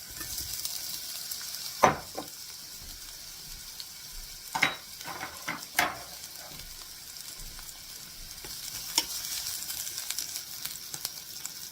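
Chicken and onion sautéing in oil for Japanese chicken curry soba, a soft continuous sizzle broken by a few sharp clanks and scrapes of a utensil on the pan, close but fairly quiet, no speech.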